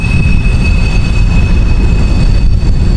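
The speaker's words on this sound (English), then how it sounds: "there was a train going by and it was loud too" A loud train rumbles right behind someone walking outdoors, a dense continuous low roar with a faint steady high whine, close and unbroken throughout, with no speech.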